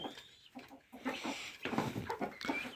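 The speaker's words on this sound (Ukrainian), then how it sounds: "Курочків п'ять штук, здається, я бачу" Hens on a home farm cluck in short repeated bursts, close by and fairly steady, with no talk.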